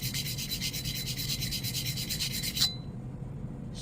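Stanley spokeshave blade sharpened on a sharpening stone, a rhythmic scraping rub in even back-and-forth strokes, close and fairly loud, stopping abruptly near the end.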